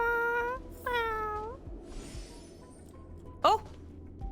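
Cat-like pudding creatures in the video game Honkai Star Rail give several meows, two long falling meows early and a short sharp one near the end, over a steady game background.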